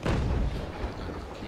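A ship's cannon fires at an enemy mast in the naval game Naval Action, one heavy boom that rolls off into a fading rumble.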